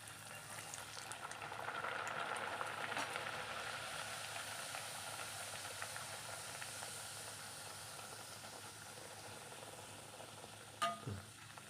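Puri dough frying in hot oil gives a steady, soft sizzle and bubbling hiss, faint and continuous, with one brief clatter near the end.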